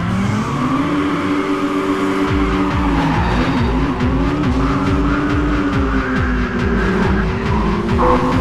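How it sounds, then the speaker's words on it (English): Race cars in Midnight Club II launch from a Tokyo start line, engines revving hard in rising, repeated gear sweeps while tires squeal and smoke, loud and continuous with no talk. "I'm the best tire smoking chick ever."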